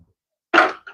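A dog gives one short, sharp bark in a workshop during a shop cleanup, clearly audible over an otherwise quiet room, with a softer trailing yelp just after.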